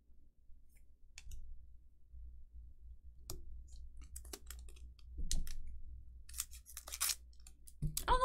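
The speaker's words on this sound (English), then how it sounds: "cutting open the packs with scissors, they feel more sturdy" Scissors snip and crunch through stiff foil trading card booster packs, a series of sharp close cuts and crinkles with quiet gaps between them.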